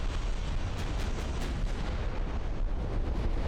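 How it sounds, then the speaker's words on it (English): A heavy cruiser, the Admiral Scheer, blows up in the naval warfare game Ultimate Admiral: Dreadnoughts, a loud, sustained roar of blasts and rumbling with several sharp cracks early on, no talk over it. "Admiral Shear has took first damage, and it resulted in a massive explosion"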